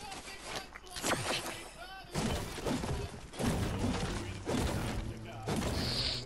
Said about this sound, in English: Oh, it's destroyed an ammo crate.